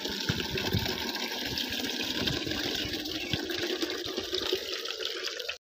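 Water pours in a steady, continuous gush close by, splashing into a container for chickens in a Punjab village, until it cuts off abruptly at the end.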